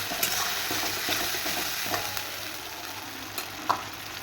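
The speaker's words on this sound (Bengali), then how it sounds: "ভালো করে নাড়াচাড়া দেবো" Spice paste sizzling in oil with lote (Bombay duck) fish as it is stirred, a steady close frying hiss broken by a few soft scrapes and taps of the spoon, with no talking.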